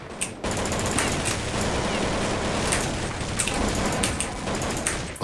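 Dense, continuous rapid-fire gunfire from a first-person shooter game, a relentless crackling stream of shots with brief sharper bursts, loud and steady throughout with no talk.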